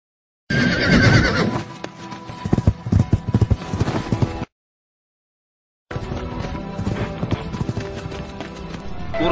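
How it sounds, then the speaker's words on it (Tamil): A horse neighs loudly and close, followed by rapid galloping hooves clip-clopping in a fast rhythm, cut by a brief silence before the hoofbeats return. "நல்ல குதிரை"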